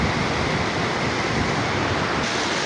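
Waterfall in a rocky mountain area, a dense continuous roar of rushing water, loud and steady with no voices.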